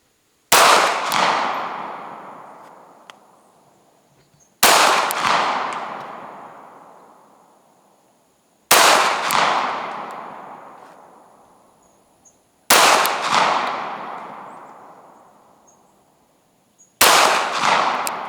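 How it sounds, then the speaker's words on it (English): Five sharp gunshots from a .380 ACP pistol at a range, evenly spaced about four seconds apart, each a loud crack with a fading ringing tail, no talking. "Let's shoot a 5-shot group."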